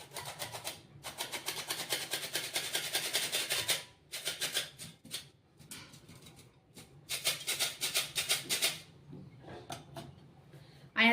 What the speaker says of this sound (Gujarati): સ્ટફિંગ ઠંડુ થાય છે ત્યાં સુધી આપણે લોટ બાંધી લેશું.